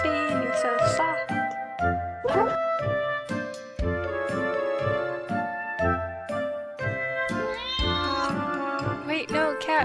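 A cartoon cat in an animated short meows again and again in bright, tonal cries, some drawn out into caterwauls, with light jingling and a voice now and then over the busy sequence.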